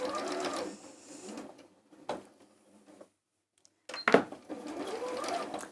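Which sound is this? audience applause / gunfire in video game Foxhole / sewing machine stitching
sewing machine stitching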